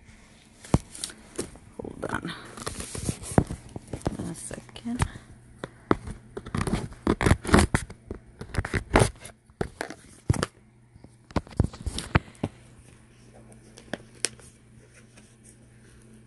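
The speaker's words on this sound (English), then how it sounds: "So I have my little scissor here, little scissors to open it." Small scissors snipping and slicing through the packaging of a BoxyCharm beauty subscription box, with irregular sharp cuts, crinkling and rustling up close, and someone speaking briefly between the cuts.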